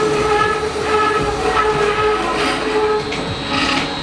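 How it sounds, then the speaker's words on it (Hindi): A solar-powered 15 HP motor driving a flour mill with a loose, slipping belt: a loud, continuous mechanical drone laced with sustained high squealing tones, steady throughout and with no voices. "पट्टा थोड़ा ढीला है, उसके लिए पट्टा स्लिप हो रहा है।"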